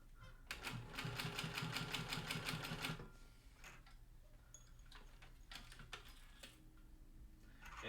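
A sewing machine stitches in a fast, steady mechanical chatter for about two and a half seconds, then stops, leaving a few faint clicks and handling noises in a quiet room.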